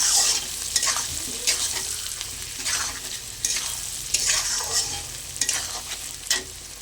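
Fried potatoes stirred into spice masala in a pan for a bata fish curry, a close, loud sizzle broken by rhythmic spatula scrapes and stirring strokes every second or so.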